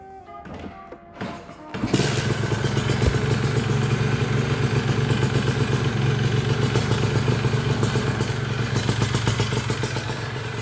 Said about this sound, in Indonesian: Nah, ini untuk suara dari motornya,